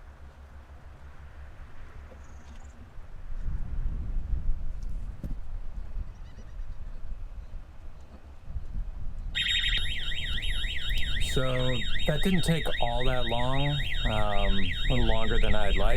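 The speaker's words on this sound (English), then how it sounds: "That's the alarm. That's going to wake up the off watch." A man overboard alarm on a boat's navigation system sounds as a loud, rapidly warbling electronic tone that starts abruptly and keeps repeating, with someone speaking briefly beforehand over low engine rumble.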